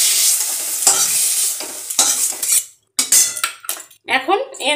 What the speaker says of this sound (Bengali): মাছটাকে আমি তুলে নিচ্ছি।